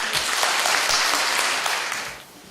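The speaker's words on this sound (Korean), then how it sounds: "박수로 맞이하겠습니다." Applause from a church congregation welcoming a member up to give a testimony, steady clapping throughout that fades slightly toward the end.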